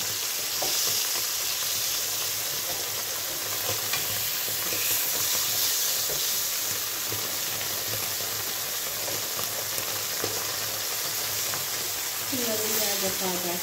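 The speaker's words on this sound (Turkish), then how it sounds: "Biraz daha kızartın ondan sonra alacağız." Homemade village cheese sizzles and crackles steadily in a hot pan of oil, a continuous close hiss with occasional stirring, while a voice speaks briefly near the end.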